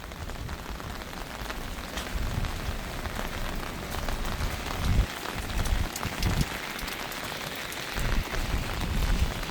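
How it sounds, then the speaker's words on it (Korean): Steady rain falling outdoors, a dense continuous hiss of drops on surfaces with occasional heavier patters, loud and close, with no voices. "지금 비가 오고"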